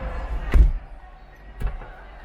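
The door of a Chinese electric car shuts with a solid, close thump, followed about a second later by a softer second knock, heard at an auto show in Beijing.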